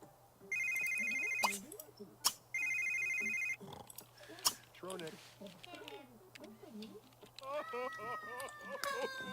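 Mobile phone in The Sims 3 video game rings in two electronic bursts, clear and loud, followed by game sounds and short chirps while someone talks in German over the gameplay.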